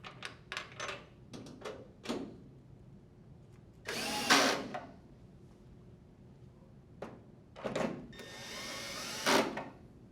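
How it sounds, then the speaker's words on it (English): A power driver runs in several short bursts while two screws are driven back into a clothes dryer panel, with a couple of longer whirring runs near the end. Light clicks and handling noises sit between the bursts. "Rethread the 2 screws."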